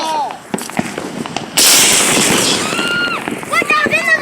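Fourth of July firework bursts loudly with a sharp blast followed by sustained crackling and sizzling, amid outdoor voices and shouting both before and after.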